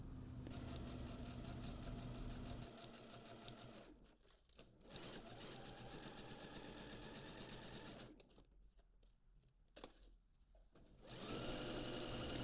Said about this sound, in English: we're going to top stitch it